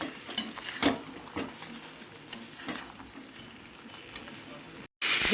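Boiled jackfruit is stir-fried in spice paste in a pan: scattered scraping strokes of a spoon over a soft, low sizzle, with a brief dropout and a loud burst of noise at the very end.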